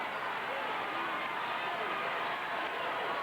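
A large basketball crowd of about 20,000 at a Tennessee vs Rutgers Final Four game roars on its feet, a dense sustained din under a commentator's voice.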